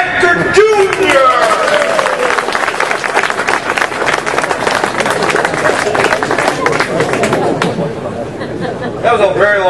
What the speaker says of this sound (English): That was a very long one clap.